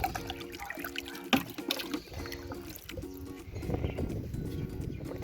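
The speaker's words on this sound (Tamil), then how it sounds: "இந்த லீஃப் வந்து எவ்வளோ தூரத்துக்கு இருக்கோ அந்த அளவுக்கு நம்ம தண்ணி ஊற்றணும்." Water is poured into a pot for a lotus plant at home, a steady close trickle and splash that runs throughout, with a humming background tone.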